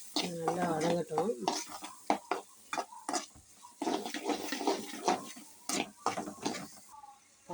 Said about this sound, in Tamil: கொஞ்சம் அந்த பூண்டு, அந்த வெங்காயம், குடமிளகா எல்லாத்தையும் போட்டு லைட்டாக சீஸை போட்டு கிண்டி விட்டுட்ருக்கேன் ஃப்ரெண்ட்ஸ்